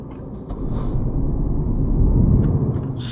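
A heavy truck engine in Euro Truck Simulator 2 builds steadily in a continuous low rumble, growing louder toward the end, with a faint hiss of air brakes near the start.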